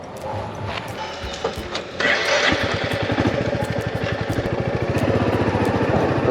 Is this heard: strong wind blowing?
no